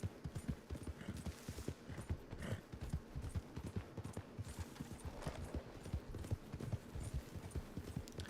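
Quiet, steady clip-clop of horse hooves in a brisk rhythm, continuing throughout with light background ambience, in the video game Red Dead Redemption 2.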